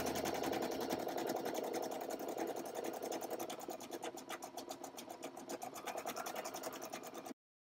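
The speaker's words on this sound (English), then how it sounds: "The machine does all the work for me." A Brother SE1900 sewing and embroidery machine stitches a design, giving a steady, rapid mechanical needle chatter with a motor hum, close and continuous before stopping abruptly.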